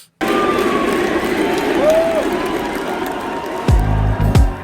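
A large concert crowd at Wembley Arena, London, roars and cheers continuously, loud and close, with whistles and shouts rising above the din and a few heavy thumps near the end.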